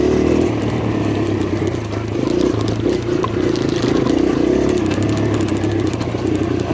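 A 2023 Kawasaki KLX140RF dirt bike runs on trails, its engine a steady, loud, close drone with a low buzzing tone that rises and falls slightly, mixed with wind rush.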